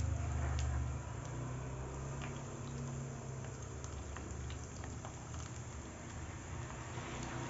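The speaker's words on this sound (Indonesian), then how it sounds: "ini ayamnya kita goreng 3 potong terlebih dahulu" Three floured chicken pieces frying in very hot oil for Korean-style fried chicken, giving a steady, dense crackle and sizzle with a low bubbling undertone, continuous and fairly close.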